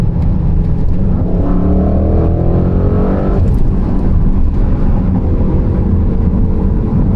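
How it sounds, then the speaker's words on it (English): A 2021 Audi RS6 Avant engine, tuned with an upgraded intake, revs hard and loud, its pitch climbing and falling under throttle with a deep, continuous roar. "you've got a very well balanced vehicle that sounds incredible under throttle"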